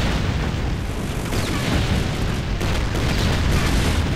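A BFG 10000 fires in Doom, The Plutonia Experiment with a brutal mod: a dense, continuous roar of booming, explosive blasts fills the whole stretch at steady high loudness, with no pauses.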